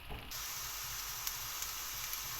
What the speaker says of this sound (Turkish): soğanlarımız da güzel kavruluyor